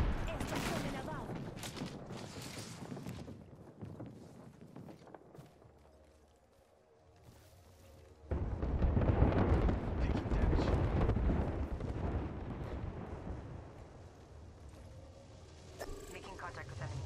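Sustained video-game gunfire erupts in dense bursts while under attack in a solo ranked shooter match, loud and continuous, fading briefly mid-clip before resuming heavily, with a player talking over the barrage.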